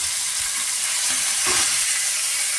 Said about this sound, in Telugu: కొంచెం పచ్చి వేగినంత వరకు సిమ్లో ఫ్రై చేస్తాము